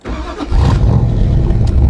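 A 1965 Backdraft Cobra replica, fully warm, fires up at once at about half a second, and its engine settles straight into a loud, rumbling idle that carries on close by.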